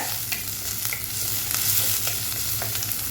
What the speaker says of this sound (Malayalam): അപ്പോൾ അതേ വെളുത്തുള്ളിയും ഇഞ്ചിയും മുളകും ചേർത്ത് കൊടുക്കാം. ഒന്ന് മിക്സാക്കി കൊടുക്കുന്നുണ്ട്.